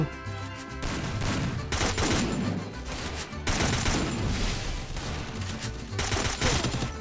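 Sustained automatic gunfire from the Free Fire video game, with rapid rattling bursts in long, dense volleys and brief pauses between them, loud and close, with no talking.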